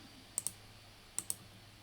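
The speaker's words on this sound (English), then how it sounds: "Here's our calculator. What we can do is type in 15," Buttons pressed on a calculator while working a combinations problem: two quick pairs of sharp, quiet clicks, about a second apart, in an otherwise quiet room.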